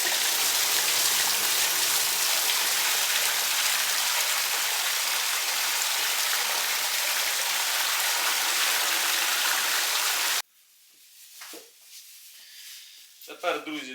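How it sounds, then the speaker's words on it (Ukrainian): A steady rushing pour of whey splashing through a colander for about ten seconds, then it stops, leaving faint clinks and handling noises. "І зливаємо нашу сироватку."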